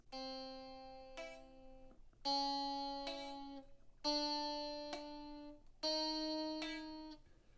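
Guitar notes are plucked in a steady pattern, four repeated phrases where some strings ring and others are accidentally muted by the fretting fingers, cut short with a dull thunk.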